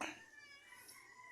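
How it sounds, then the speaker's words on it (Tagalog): A pet cat gives a single faint, brief meow close by in a quiet room. "Kalong-kalong na ni Hana yung alaga niyang pusa."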